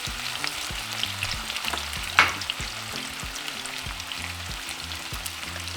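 Seasoned potatoes with salt and pepper fry in a pan, making a constant close sizzle, and midway a sharp clatter of stirring is heard.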